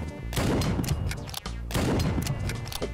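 Gunfire in a Call of Duty-style web video game, with a sniper among the shooters: dense, rapid bursts of shots and impacts in two loud volleys separated by a short lull.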